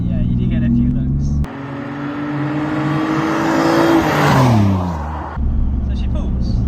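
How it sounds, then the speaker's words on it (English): An engine-swapped BMW E30 accelerating hard from inside the car, engine note rising steadily in pitch for several seconds, then easing off, loud and close. "I put my foot down and she just goes"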